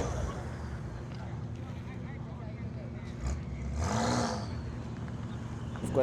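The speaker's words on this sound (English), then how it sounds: "F90 is giving it as much as possible of a burnout there to warm up those tires." An F90 performing a burnout on a private track day to warm its tyres, giving a loud, sustained engine roar with a brief rising rev surge midway, steady and close throughout.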